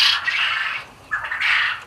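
Quail calling on a farm in Uganda: loud, harsh squawking calls in two bursts separated by a short pause, close to the recorder with no talking.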